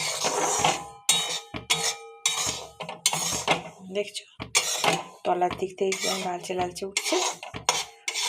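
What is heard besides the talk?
semolina being dry-roasted and stirred in a pan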